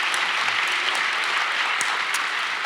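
An audience claps in a dense, even wash of applause, steady and moderately loud for the whole stretch, with no voices above it.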